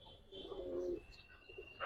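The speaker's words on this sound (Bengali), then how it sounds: "সুন্দর গোল শেপের একটা কবুতর" A pigeon gives a faint, low, rolling coo lasting under a second amid soft background noise, quiet and nearby.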